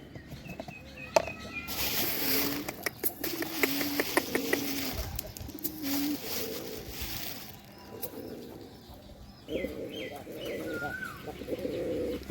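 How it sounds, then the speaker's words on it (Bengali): Domestic pigeons cooing while being fed, with soft repeated coos and light wing and feet patter nearby, a few brief bursts of louder fluttering in between. "তো এখানে খাবার দিতে আছি কবুতরে।"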